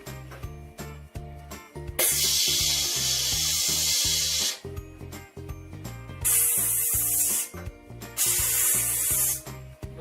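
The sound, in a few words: person imitating an aerosol sprayer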